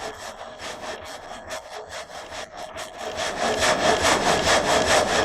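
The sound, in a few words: water-powered sawmill saw gate cutting wood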